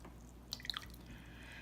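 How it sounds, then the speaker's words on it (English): A watercolour brush is wetted in water, giving a few faint, tiny drips and splashes in the middle of a quiet moment. "I'm going to start by wetting my brush"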